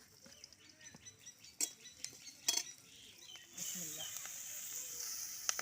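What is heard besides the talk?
onion, garlic and green chillies frying in a pan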